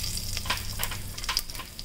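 Cumin seeds sizzling in hot oil in a pan: a close, continuous frying hiss broken by quick crackles and spits, with no voices.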